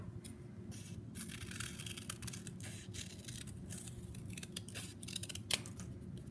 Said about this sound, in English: when I go to cut, I'm going to cut right here